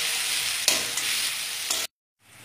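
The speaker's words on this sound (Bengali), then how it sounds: "দিয়ে এবার যতক্ষণ না নরম হয় ততক্ষণ আমি নেড়ে যাব।" Onions sizzle in oil while being stirred in a pan, a close, steady frying hiss broken by a couple of scraping stirs, then a sudden cut to near silence.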